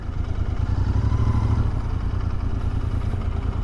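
A motorcycle engine runs steadily at close range after a stall, giving a loud, continuous low rumble with mechanical clatter and no talking.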